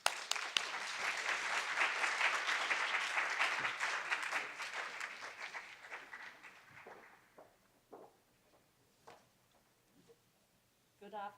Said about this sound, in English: please let's welcome her with a warm round of applause